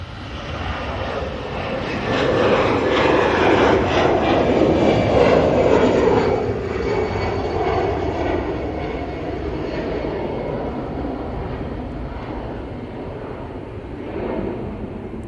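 A TUI airliner arrives at Manchester Airport, its jet engine roar building to a broad peak mid-clip and then easing into a steady, fading rumble, heard alone without talk.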